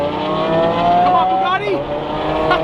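A Bugatti Veyron's engine revs hard nearby in a loud, sustained drone that climbs and dips in pitch, with a short tire squeal, while people talk over it.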